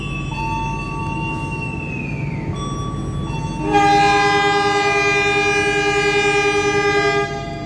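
The Brantas passenger train's horn sounds in a long steady blast, loud and close, over the rumble of the train getting under way from the station.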